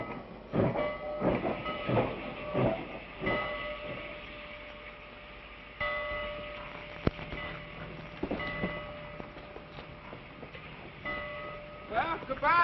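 A 1930s steam train rumbles and clanks along with rhythmic metallic clatter and a few sharp hisses, moderately loud, with voices occasionally heard over it.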